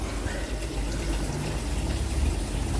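Boiling water from a kettle pouring into a clean bucket, a steady continuous splashing gush running for a few seconds, close and fairly loud with no talk.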